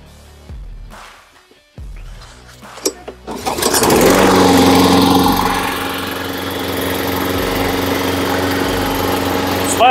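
A couple of short pull-cord tugs, then a small GTM lawn mower engine catches and roars loudly, settling into a steady high-pitched run.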